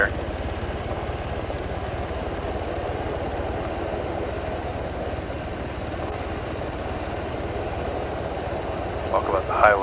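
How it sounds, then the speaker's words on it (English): Transport aircraft in ArmA 3 droning steadily overhead, a continuous low engine rumble that holds for the whole stretch and swells slightly near the end, with scattered voices over it. "Some kind of transport aircraft or something up there."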